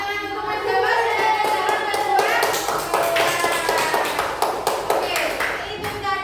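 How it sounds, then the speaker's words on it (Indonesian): Students clap for a classmate in a school classroom, a loose burst of hand claps close by mixed with children's voices and chatter throughout. "Tepuk tangan untuk Mas Dava."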